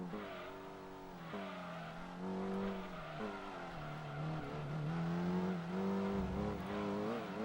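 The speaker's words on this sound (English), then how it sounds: "At least the racing class Viper seems a little easier to control." Racing-class Dodge Viper in Gran Turismo 2, its engine droning steadily and rising and falling through gear changes, with no talk over it.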